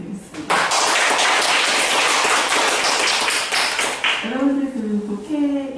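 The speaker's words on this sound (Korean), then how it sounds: "여러분 미리 큰 박수 부탁드리겠습니다" Large lecture audience at a university peace and unification forum bursts into loud, sustained applause for a guest lecturer, dense clapping throughout before a voice begins speaking over the fading claps.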